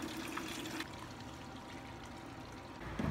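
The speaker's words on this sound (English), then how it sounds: "I'm just using a siphon. I'm gonna drain this water." Aquarium water being drained through a siphon from a planted Cryptocoryne tank: a continuous watery pour and trickle, fuller at first, then settling into a softer steady flow, with a slight surge at the end.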